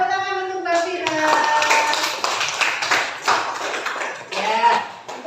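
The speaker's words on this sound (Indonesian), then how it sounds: "tepuk tangan untuk Mbak Fira" Schoolchildren in a classroom clap for a classmate after her answer in a lesson on solar eclipses, a brief burst of scattered small-hand claps with young voices talking and calling out over and between them.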